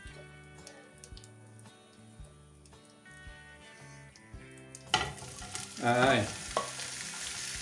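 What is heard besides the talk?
vegetables frying in a pan for chicken fajitas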